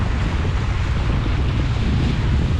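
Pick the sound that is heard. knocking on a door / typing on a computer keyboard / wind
wind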